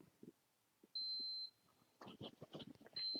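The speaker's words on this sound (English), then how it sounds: "you got to go check on that fire alarm, man." A fire alarm lets out two loud, high-pitched electronic beeps about two seconds apart, with faint indistinct voices and room noise between them.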